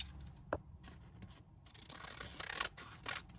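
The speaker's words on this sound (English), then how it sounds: "I'm just going to grab the bottom and cut up" Scissors snip and rustle through a miniature crisp packet in a Flaming Hot Cheetos craft, a few close, quiet cuts and crinkles with no talking.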